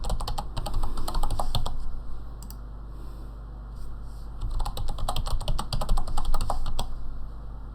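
Keys clacking as a root password is typed on a computer keyboard during database server setup, bursts of quick close clicks separated by short pauses, with no voices.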